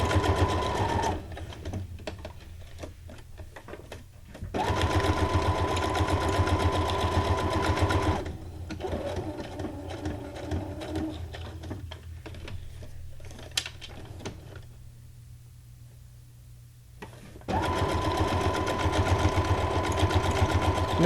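Sewing machine stitching a vintage card onto a journal pocket, running in several steady whirring bursts of a few seconds each, separated by pauses and near-silence.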